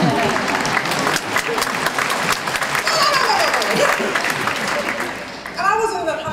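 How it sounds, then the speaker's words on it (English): Audience applause at a community college celebrity forum, loud sustained clapping from a large crowd that swells and carries on, with a speaker's voice rising over it toward the end. "Hold your applause."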